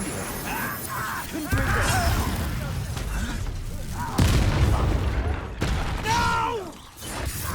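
An Incendio fire spell is cast in Hogwarts Legacy, giving booming magical bursts and crackling blasts amid combat, with voices shouting over the fight.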